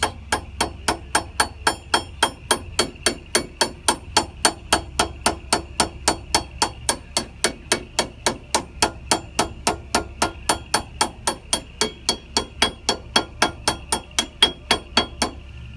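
Light hammer taps strike a first-generation truck brake part in a steady, evenly spaced series of dozens of sharp metallic knocks, close and crisp with nothing else in between.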